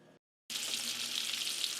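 Bacon frying in a pan fills the kitchen with a loud, steady sizzle and crackle that starts abruptly after a brief pause and then holds continuously up close.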